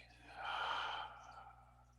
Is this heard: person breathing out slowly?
yes